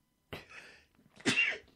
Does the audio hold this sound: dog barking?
no